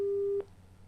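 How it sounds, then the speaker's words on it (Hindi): Telephone busy tone after a disconnected call: a single steady electronic beep that stops abruptly, followed by quiet line hiss. "प्रवीण जी का लगता है फोन डिस्कनेक्ट हुआ है"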